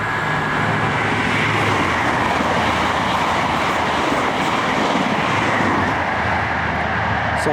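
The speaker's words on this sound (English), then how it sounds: "there's a train coming" A train rumbles past nearby, a steady loud roar of wheels on rails with a faint clickety-clack throughout, no talking.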